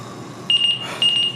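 Two short bursts of a shrill, high-pitched smoke alarm, each a rapid pulsing beep, loud and close.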